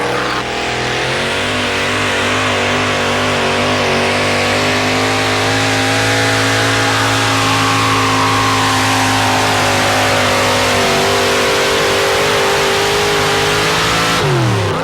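A 572 cubic inch Chevrolet engine in a four-wheel drive truck at a 1987 truck pull, revving loud and close in a long sustained roar that climbs and holds before cutting off at the end.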